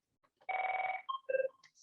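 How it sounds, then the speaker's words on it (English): A mobile phone rings during a talk about a campus arts club room, giving a loud electronic ring with a sustained buzzing tone followed by shorter beeping notes, close and clear against an otherwise quiet room. "my phone is ringing very loudly"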